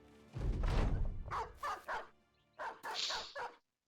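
Dogs barking in a video game mission against brigands: several sharp, loud barks and yips in quick bursts, close by, with short gaps between them and no talk.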